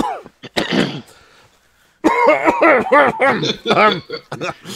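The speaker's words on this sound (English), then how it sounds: "They cough like that all the time." Short bursts of coughing and throat-clearing break up the clip, with a brief lull before a longer, rougher run of hacking coughs.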